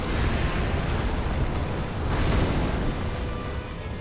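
A fire magic attack in Dark Souls 3 fills the whole span with a dense, sustained, roaring rumble, loud and steady throughout, with a slight swell about halfway through.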